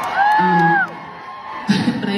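Concert crowd at a show in Dublin, Ireland lets out loud, sustained whoops and cheers, which drop away briefly and then return in a fresh burst of shouting near the end.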